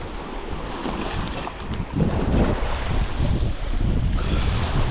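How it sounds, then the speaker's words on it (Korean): Strong wind roars and buffets the microphone at a breakwater in Ulsan during a rockfish fishing trip. The steady broadband rush swells louder about halfway through, with a faint wash of water underneath and no talk. "오늘은 바람이 많이 붑니다"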